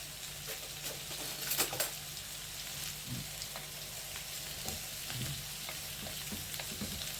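Potato pieces frying in a covered pan with a steady, close sizzle and crackle, broken by a few clatters and scrapes as they are turned.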